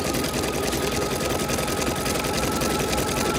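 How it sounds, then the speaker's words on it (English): A sewing machine runs steadily, stitching a fabric circle about three inches across, with a continuous, even, close-up whirr and no pauses or talk. "Listening to YouTube videos while I wait on this to stitch it."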